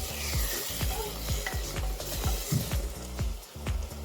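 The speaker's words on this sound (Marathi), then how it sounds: "आपली टोमॅटो प्युरी आणि अद्रक लसणाची पेस्ट छानपैकी परतून घ्यायची" Tomato puree and ginger garlic paste sizzle in a pan while being stirred, a steady close frying hiss broken by regular scraping strokes of the spoon, with no talk.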